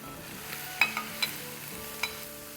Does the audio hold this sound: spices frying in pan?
yes